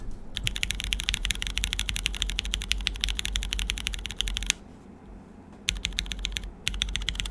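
Rapid clicking of a mechanical keyboard fitted with dark amber switches, typed close up in quick bursts with a brief pause midway, no voices.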